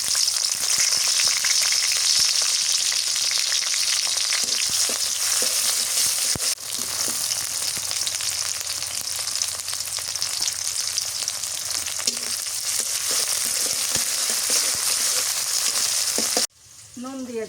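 Chopped onion frying in a pot on a clay stove, a loud continuous close sizzle with crackling and occasional stirring scrapes, steady throughout and briefly changing near the end.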